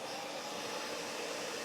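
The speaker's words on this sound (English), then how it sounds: "Now I'm going to turn on another blow dryer on low." A blow dryer running on its low setting from an Allpowers R1500 portable power station, drawing about 1850 watts, gives off a steady, even whoosh of airflow, close and unbroken, with no voices.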